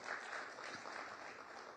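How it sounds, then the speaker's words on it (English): Warm round of audience applause for Karthikeyan Pandyan at a speaking event, a steady wash of many hands clapping at even loudness throughout, with no voices over it. "Let's give Mr. Karthikeyan Pandyan a very, very warm round of applause"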